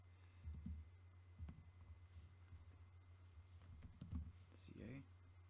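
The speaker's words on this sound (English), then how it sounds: "I'm going to type in Atlanta here" Fingers tap out a short search entry on a computer keyboard with irregular, soft clicks and pauses, heard close over a steady low hum.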